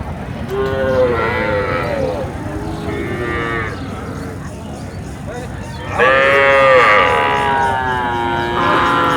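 Cattle moo repeatedly at a busy livestock market in Ambari, Dinajpur, Bangladesh, several drawn-out calls close by, with people talking and crowd noise underneath.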